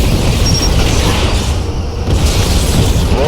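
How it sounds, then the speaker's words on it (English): A Romulan ship explodes in the Star Trek Legacy space combat game, a loud deep boom with sustained rumbling roar, close and heavy throughout. "Romulan vessel destroyed."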